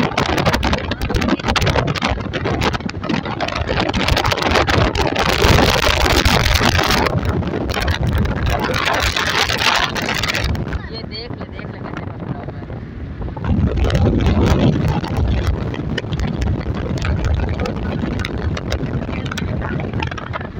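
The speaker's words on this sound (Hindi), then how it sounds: "बहुत तेज हवा है।" Strong outdoor wind buffets a microphone while travelling by road toward a village, a loud, continuous rough roar that swells and eases for about twenty seconds without a break.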